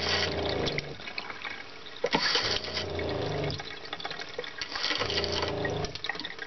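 Water runs and splashes steadily from camper plumbing, a continuous close gushing with a few irregular surges and spatters.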